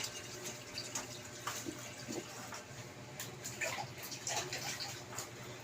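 Water is poured out from a container during dishwashing at home, making a faint, continuous splashing and trickling with small bursts, heard from a little distance.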